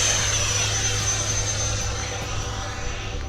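An FMS Su-27 Flanker RC jet with twin 70mm electric ducted fans flies past, its loud, steady whine and rushing roar holding near and then easing slightly as it moves away.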